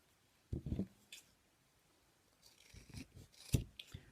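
Scissors snip through crochet yarn in a few quiet, close clipping cuts, with soft rustling handling sounds between them.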